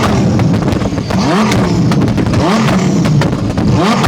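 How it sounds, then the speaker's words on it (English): A twin turbo Corvette Z06 with a new exhaust revs hard and loud up close, its steady roar broken by rapid crackling pops from the tailpipes. "This car shoots the craziest flames."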